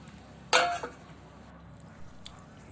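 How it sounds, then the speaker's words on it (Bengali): Vegetables being stirred in a cooking pot for a Bengali vegetable stew, then covered, heard as one sharp close metallic clank with a brief clatter after it, followed by a few soft light taps. "এখন এটাকে নেড়ে চেড়ে ঢাকা দিয়ে দেব"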